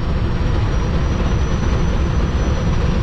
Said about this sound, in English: Like, that's a train.